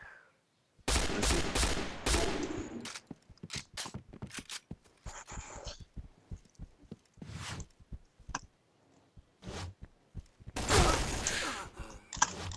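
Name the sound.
gunfire in a video game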